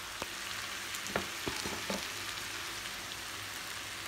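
Eggs fry in a pan with rice and vegetables, a steady bright sizzle throughout with a few sharp ticks and scrapes from a utensil, close and without talk.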